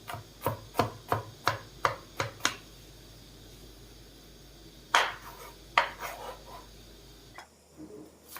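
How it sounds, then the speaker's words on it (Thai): A knife chopping garlic finely on a board, about nine quick, evenly spaced thuds, then a pause and a few more scattered chops. "หั่นกระเทียมแล้วก็สับสับเป็นเล็กๆเล็กๆเพื่อว่าที่จะเอาไปเจียวก่อน"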